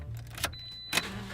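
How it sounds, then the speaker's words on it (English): A car engine cranks after a dead battery is jump-started with a supercapacitor jump starter, giving a short burst of low mechanical churning with a brief sharper surge near the end. "crank the engine."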